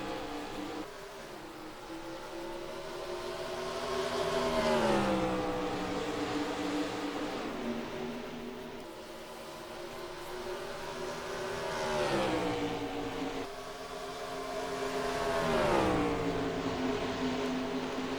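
Race cars in the Pinty's 200 at Lakeshore, Coca Cola Canadian Super Series, roaring after a green flag restart, engines climbing and sweeping in repeated rising passes heard at a distance, loud and continuous without talk.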